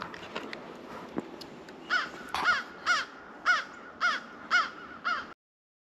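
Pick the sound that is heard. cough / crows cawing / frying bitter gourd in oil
crows cawing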